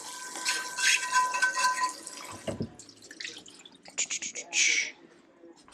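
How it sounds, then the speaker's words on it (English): Running tap water splashes in bursts during a quick rinse at a kitchen sink, with dripping and gaps of quiet and a clunk midway; faint talk may be present. "Quick rinse."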